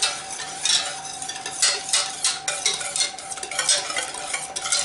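Brisk stirring of egg white and sugar in a saucepan, a repeated scraping swish in uneven strokes, close and fairly loud, with no talking.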